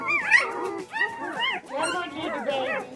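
A Newfoundland Saint Bernard puppy whimpers and yips in a series of high, wavering whines, close by, in short bursts with brief pauses.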